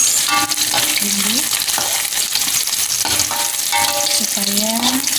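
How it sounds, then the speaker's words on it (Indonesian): Spice paste sizzles and fries steadily in a hot pan while being sautéed for beef rib soup, a loud constant crackle broken by scraping strokes of a utensil stirring. "sekarang kita tumis bumbu"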